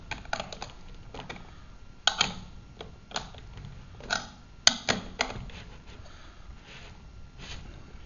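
Wheel nuts on a magnetic sweeper are tightened by hand, a scattered series of soft clicks, ratcheting ticks and small metallic taps close by, with one sharp snap partway through and no talking.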